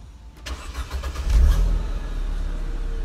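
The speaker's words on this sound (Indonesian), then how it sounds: "Ini gua starter ya mesinnya ya." A 2005 Mercedes-Benz CLK200 Kompressor Elegance coupe (W209) cranks briefly, then its supercharged engine catches with a loud close surge and settles into a smooth, steady idle.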